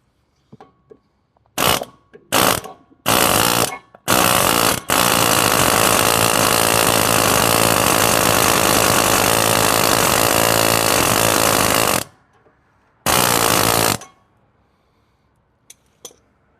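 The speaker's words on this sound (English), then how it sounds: "I'm going to whack it right here with the air hammer, see if we can break that free." An air hammer strikes a Ford F250 steering part in a few short bursts, then runs in one long continuous loud rattle before stopping, followed by another brief burst.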